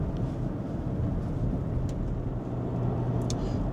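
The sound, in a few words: Cadillac SRX 3.6 engine and car ambient noise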